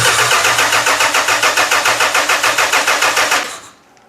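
A small motor that has to be quick-started cranks and fires in a fast, even chug of repeated pulses, loud and close, then cuts out abruptly near the end.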